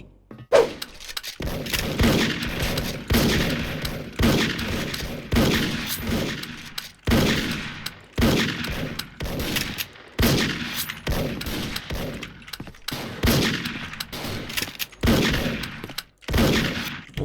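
Dragunov sniper rifle fire in the Special Force video game, a string of loud, separate shots every second or two, each with a short echoing tail.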